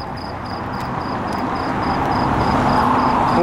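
Crickets chirping at night in Alanya, Turkey, a steady high pulsing trill over a continuous wash of distant traffic noise, no voices.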